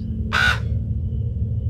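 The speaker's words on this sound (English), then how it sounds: "Oh, a damn bird." A single harsh crow caw rings out once at moderate distance over a low, steady rumbling background hum, with nothing else following.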